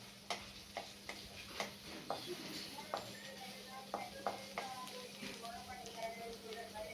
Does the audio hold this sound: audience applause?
no